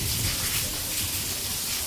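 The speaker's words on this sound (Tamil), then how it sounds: "இன்னும் இடி இடிக்குது" Steady heavy rain hisses throughout, with a low rumble of thunder rolling underneath the downpour.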